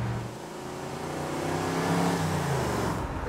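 A 1964 Mercury Marauder engine revs through 2.5-inch stainless exhaust ending in Flowmaster mufflers. It gives a loud, deep, rumbling roar that swells and falls over a few seconds, heard close with no talk.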